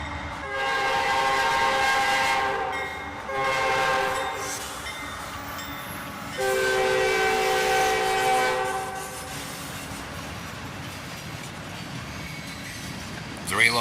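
Southbound manifest freight train led by three locomotives, an AC44CW, an ET44AH and a GP38-2, rolling past close by with steady rumble and wheel noise, the horn sounding in loud long blasts early and again midway.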